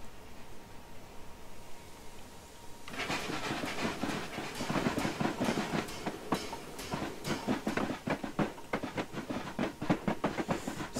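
A4 Bittern steam locomotive in Train Simulator, starting up with a steady, quickening chuff of exhaust beats over a low rumble, alone and fairly close, after a quiet opening hum.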